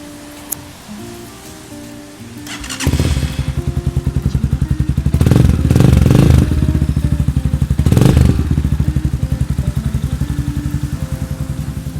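A 2019 GPX Legend 200 motorcycle with a stock engine starts up and settles into a steady, loud, close idle. Its even, rapid thumping rises in two brief revs and then runs on, with no talk over it.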